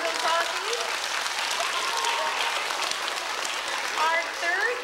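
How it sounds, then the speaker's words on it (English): A school audience applauds first graders with a broad wash of sustained clapping, a few voices and cheers rising through it near the end. "Would you give them a round of applause, please?"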